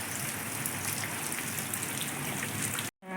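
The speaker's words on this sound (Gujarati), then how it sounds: "કેટલો વરસાદ છે." Heavy morning rain pours down in a dense, steady hiss of drops striking surfaces, close and unbroken, cutting out abruptly just before the end.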